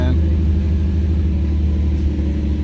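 A Hyundai Genesis Coupe idles after a cold start in a garage, a loud, steady, deep engine rumble with echo throughout.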